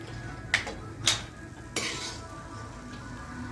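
Metal spoon clinking and scraping against a pan while roasted peanuts and cashews are lifted out during vegetable upma preparation, three short sharp clinks spaced about half a second apart over a quiet kitchen background.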